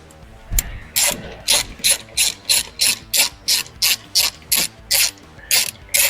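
Rapid ratchet clicks ring out in about a dozen close, evenly spaced bursts while headlight mounting screws are tightened on a 2021–2025 Ford Bronco during a Z-Series full LED headlight install.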